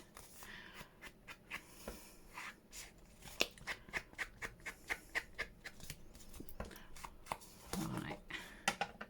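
Scissors cutting a paper file folder, a run of crisp snips in uneven rhythm, close and soft, interspersed with paper handling, with a quiet voice talking at times.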